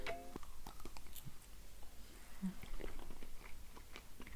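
Close, soft crunching and chewing of a chocolate-coated marshmallow treat with a crisp biscuit layer, irregular crisp bites and mouth sounds at low volume with no speech.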